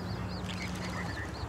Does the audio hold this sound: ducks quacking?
yes